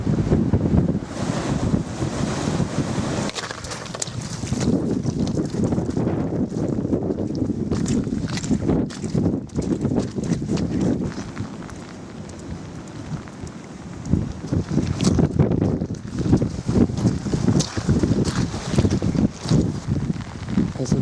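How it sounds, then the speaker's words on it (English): Strong wind buffets the microphone on an exposed hilltop in driving icy rain, a loud, steady roar with gusty surges throughout and no talking. "So it's just a long downhill, a few miles to King's house now, through this driving icy rain."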